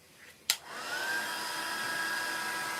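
A handheld heat tool switches on with a click and then blows a steady, even whir, held close while drying ink on vellum paper at a stamping craft table.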